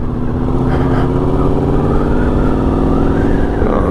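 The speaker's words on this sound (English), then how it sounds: "it looks like somebody's got their hot rod out" A hot rod's engine rumbles loud and close in a continuous drone, rising slightly in pitch as it drives past, with no voices over it.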